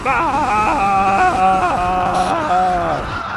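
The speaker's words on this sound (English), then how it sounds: "that's the sound of guys dying who've been plagued and an Ultralisk is in town" A rapid series of StarCraft: Brood War death cries and squelchy groans as plagued units die to an Ultralisk, overlapping in quick succession, with warbling, falling tones amid battle noise.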